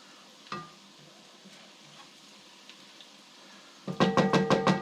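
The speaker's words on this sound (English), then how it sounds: "Once this comes up to a nice little sizzle" Noodles and vegetables with chili hit a hot pan and burst into a loud crackling sizzle near the end, after a quiet stretch with a single clunk early on.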